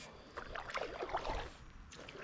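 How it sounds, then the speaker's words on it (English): Paddle board paddle strokes dipping and pulling through calm water, a soft close swishing and gurgling that rises and falls with each stroke, quiet throughout. "We're paddling a little bit."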